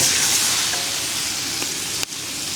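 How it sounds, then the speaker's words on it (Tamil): Steady, close sizzling of chopped onions frying in hot oil, a bright crackling hiss throughout with a faint clatter near the end. "பொடியா நறுக்கின வெங்காயம் சேர்த்துக்கலாம்."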